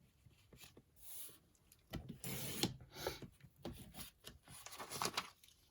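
Paper being cut for a craft folio, with scissors snipping and rasping through the sheet in irregular bursts, faint and close, with small handling noises in between.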